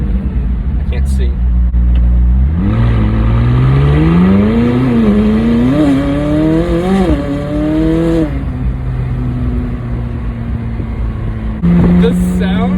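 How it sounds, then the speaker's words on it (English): A McLaren 600LT Spider's engine and exhaust rev loudly and climb in pitch through repeated upshifts on paddle shifters, heard close from inside the car while driving hard through a sharp corner, with a voice talking over it at times. "The sound that is coming out of this vehicle right now is magical."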